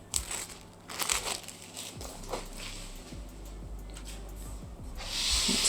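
Protective paper on a like-new laptop crinkles and rustles up close in scattered bursts, with a louder, fuller crumple toward the end.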